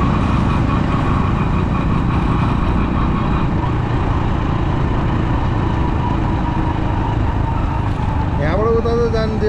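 Motorcycle riding through a quiet Kathmandu street, engine droning steadily up close with constant road and wind noise, and a brief rising whine near the end.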